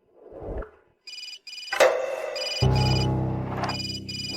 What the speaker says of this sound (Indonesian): Saya harus angkat telepon ini.